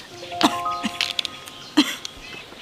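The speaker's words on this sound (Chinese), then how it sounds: "妈，你怎么咳嗽了？" A woman coughs in a home setting, two short bursts about a second apart, fairly close and moderately loud, with soft background tones between them.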